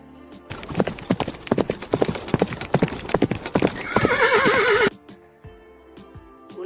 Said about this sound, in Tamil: குதிரை வண்டி